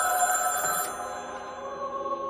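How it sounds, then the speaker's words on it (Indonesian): Telephone ringing in a film scene set at a candlelit dinner table: a bright, sustained electronic ring at moderate volume that shifts slightly partway through and continues steadily to the end. "telepon pun berdering."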